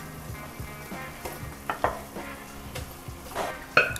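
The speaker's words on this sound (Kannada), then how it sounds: "ಈಗ ಇದನ್ನೆಲ್ಲ ಚೆನ್ನಾಗಿ ಮಿಕ್ಸ್ ಮಾಡ್ಕೊಳ್ಳೋಣ" Rice, cooked dal and vegetables for bisi bele bath being stirred together in a pot, giving soft scraping and mushy clacks with a few sharper spoon knocks, close and moderate in volume, no talking.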